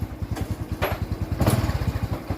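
Motorcycle engine putting along rapidly and steadily during a test ride after repairs, a close, rhythmic low thumping with a couple of brief higher noises over it.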